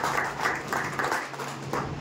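Audience at a local gathering in Armoor, Nizamabad clapping to welcome the chief guest, a senior civil judge; scattered bursts of applause rise and fall at moderate volume.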